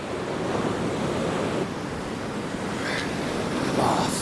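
Sea waves break continuously in Collywell Bay, Northumberland, on a rocky shore as the tide fills the bay. The surf roars steadily under gusting wind noise, with no voices.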